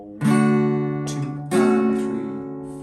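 An acoustic guitar strums a chord pattern, two ringing chord strokes with a lighter upstroke between them, close and clear with no talking.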